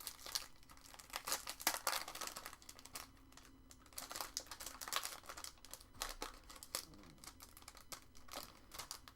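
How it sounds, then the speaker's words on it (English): Small paper umbrellas are cut out by hand, with quiet irregular snipping, crinkling and rustling of paper, faint and close in a still room. "We are going to cut out our little umbrellas and just pop them on here."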